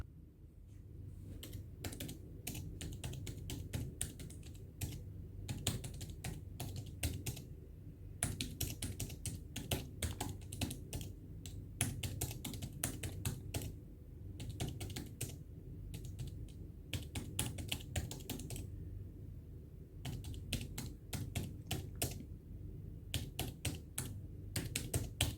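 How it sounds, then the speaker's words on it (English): Rapid, steady keystrokes on an iPad 8 keyboard accessory, close and crisp, with short pauses between bursts of tapping and no talking. "I have added a typing ASMR clip ahead."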